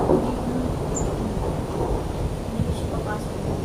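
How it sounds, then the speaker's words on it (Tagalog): Heavy rain pours in a steady dense roar with low rumbling thunder underneath, continuous and fairly loud throughout. "sobrang lakas ng ulan"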